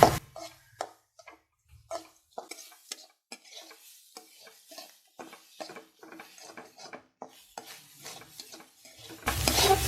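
Coriander, fenugreek, shallots and curry leaves roasting in a pan for a Kerala-style roasted-coconut fish curry, heard as close, intermittent stirring scrapes and light sizzling, with a louder burst of sizzle near the end.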